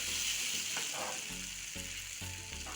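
Spices fry in oil for a restaurant-style matar malai paneer masala, a steady quiet sizzle with occasional low stirring thumps of a spoon in the pan.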